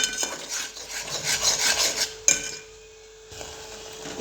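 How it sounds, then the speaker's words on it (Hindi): Ingredients for turmeric milk roast in a pan over medium-low heat while a spoon stirs them continuously, giving close, rhythmic scraping and rubbing against the metal that stops briefly partway through and then resumes. "लगातार चलाते रहेंगे, मीडियम स्लो पे ही पकाते रहना है।"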